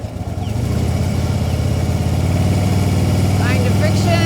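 A motorcycle in first gear holds a steady, close engine drone as the throttle opens, with the note building slightly. A voice briefly cuts in near the end.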